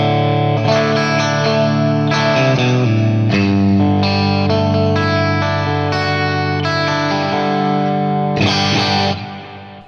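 Electric guitar run through a HeadRush unit with a NAM A2 tone, a distorted, chorus-washed stereo effect sweeping back and forth, dense sustained chords and notes played loud and continuously, fading at the end, with no talking.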